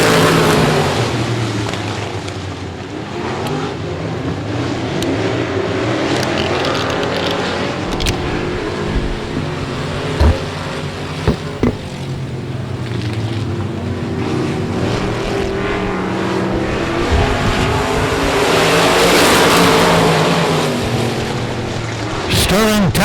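Race cars roar around the I-37 Speedway oval, engines droning continuously and swelling as cars pass, while an announcer talks over the noise.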